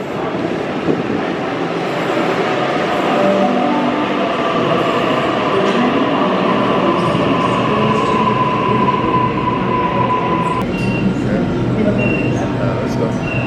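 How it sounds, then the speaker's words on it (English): A Sydney train pulls into a station with a loud, steady rumble of wheels on the rails and some high brake squeal as it slows. Voices murmur faintly beneath the noise. "So here is our train coming, guys."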